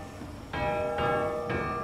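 Bells ring in The Walking Dead video game with three evenly spaced, resonant metallic strikes. Each one rings on and blends into the next over a low background hum.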